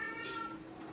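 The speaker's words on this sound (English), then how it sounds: "That's my cat and my husband about to come in." A house cat gives a short, thin meow indoors, faint and brief, heard alone with no talking.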